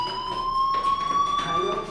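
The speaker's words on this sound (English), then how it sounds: "do you hear that fire alarm? That means you should be outside." A fire alarm in the video game Life is Strange rings steadily, a loud electronic tone that holds for the whole two seconds with faint background noise beneath it.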